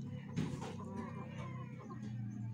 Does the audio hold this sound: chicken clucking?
yes